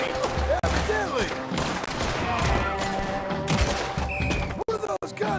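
Gunfire from the video game Red Dead Redemption 2 fills the scene, a sustained fusillade of shots and clatter with game sounds mixed in and voices heard underneath.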